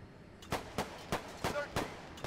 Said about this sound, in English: I hear a lot of enemy fire